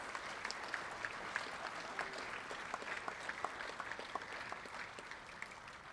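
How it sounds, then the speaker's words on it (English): A school audience applauds steadily at an honors night for sophomore superintendent award recipients, with dense, even clapping from many hands filling a large room at moderate volume and no talk. "if you'll give one more round of applause to our sophomore superintendent award recipients"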